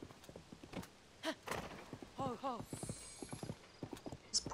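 Hooves clip-clop and a horse whinnies in Legend of Zelda: Tears of the Kingdom, clear game effects set against a faint background and a little talk.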